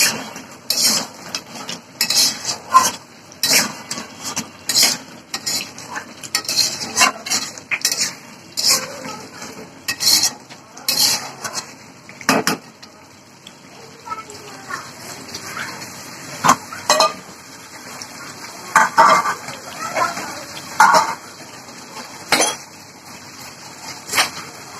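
A chicken gizzard and liver curry being stirred in a pot, with frequent loud metallic scrapes and clanks of the spoon against the pot over a quiet sizzle.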